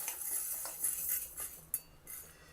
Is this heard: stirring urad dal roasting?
yes